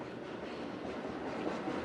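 Passing train at an outdoor bridge-naming press event, a steady rolling rush with faint clickety-clack of wheels on rails, moderately distant and continuous without talk.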